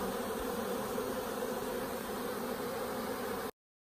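Honeybee swarm being hived, a dense steady buzzing of many bees that fills the whole stretch at close range, with no talk, before cutting off abruptly.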